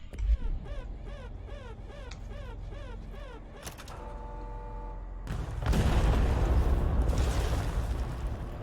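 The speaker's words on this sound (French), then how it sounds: "Explosion!" Explosion in a mining and quarrying video game, a deep rumbling burst that swells and sustains loudly after a stretch of layered electronic tones and music.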